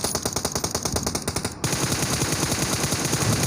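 Rapid automatic gunfire from PUBG Mobile, a dense string of evenly spaced shots that shifts into a faster, continuous burst about halfway through, loud and with no talk over it.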